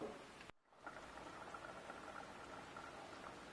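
Tomato sauce simmers in a pot with a soft, steady bubbling and popping patter, quiet and continuous after a brief dropout near the start.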